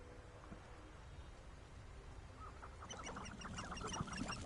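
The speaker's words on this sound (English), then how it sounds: "Oh, the chickens." Chickens and other fowl in the game Hogwarts Legacy cluck in a lively scattered chorus that builds over the last half, with a soft outdoor ambience underneath and no talking.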